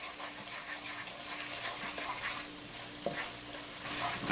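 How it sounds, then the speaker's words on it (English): A spoon stirs spice into a sizzling cooking pot, with soft scraping strokes over a constant frying hiss. It is close and moderately quiet, and no one speaks. "We'll stir that in."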